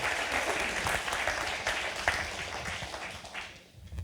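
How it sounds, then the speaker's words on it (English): An audience at a storytelling night applauds a storyteller being welcomed to the stage, a dense steady wash of clapping that thins out near the end. "please give a round of applause for Simon Shuri"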